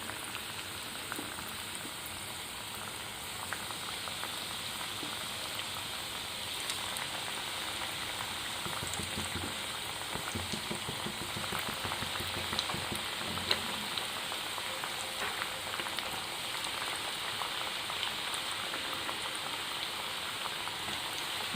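Chicken pieces for homemade KFC-style fried chicken fry in hot oil, giving a steady, even crackling sizzle that continues without a break and with no voices over it.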